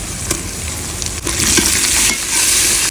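Steady pan sizzling and crackling of chopped green chili, garlic and ginger frying in sunflower oil with onion, swelling louder midway as the mix is stirred, with a few scraping clicks.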